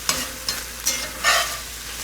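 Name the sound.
pork cooking down and sizzling in a pan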